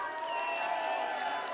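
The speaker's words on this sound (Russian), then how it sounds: "аплодисменты" A crowd at a concert applauds and cheers faintly, a soft continuous patter blended with sustained musical tones, distant and low in level.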